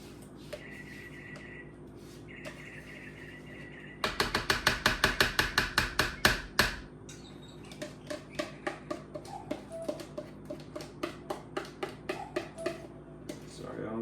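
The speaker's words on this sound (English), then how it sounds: "Just scrape this container clean." Greek yogurt scraped out of a plastic container with a spoon while making a strawberry banana protein shake: a fast burst of rhythmic scraping clicks, then a slower run of evenly spaced scrapes, close and moderately loud.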